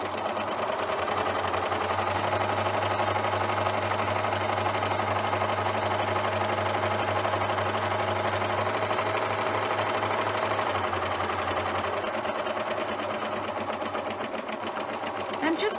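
Sewing machine stitching a lettuce edge hem on stretched knit fabric, a steady fast whirring hum running continuously for about twelve seconds, then slowing and stopping, fairly quiet and close.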